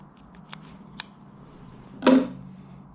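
Scissors snip off excess braided fishing line, a few light ticks of handling followed by one distinct crisp cut, close and alone in a quiet room.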